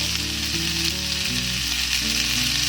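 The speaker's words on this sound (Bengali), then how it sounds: "এটাকে আমি 2 মিনিট ধরে একটু নাড়াচাড়া করে নেব।" Spiced amla pickle fries loudly in a pan while being stirred, a dense continuous sizzle with a steady low hum underneath and no talking.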